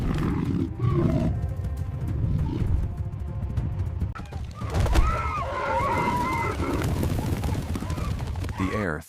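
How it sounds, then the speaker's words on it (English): A lion roars amid a dusty savanna charge toward a buffalo herd, loud and layered with thudding hooves, animal calls and dense rumbling, continuous across the scene with a voice talking over it. "Then, a roar shatters the calm. A lion charges, kicking up dust"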